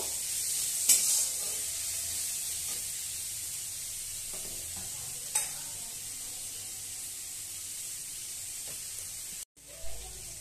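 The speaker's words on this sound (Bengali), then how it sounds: "এবার একবার ভালো করে কষিয়ে নেব।" Spice paste with melted tomato is sautéed in a pan: a soft, steady sizzle runs throughout, broken by a few sharp stirring scrapes and a clunk near the end, close by and without talking.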